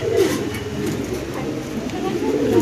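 Spanish pigeons coo in low, soft, repeated calls over a steady background murmur.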